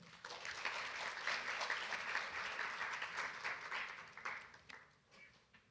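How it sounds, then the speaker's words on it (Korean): An audience at a university forum applauds to welcome a presenting team, a fairly soft, dense patter of many hands that swells briefly and then fades out toward the end. "박수로 맞아주세요"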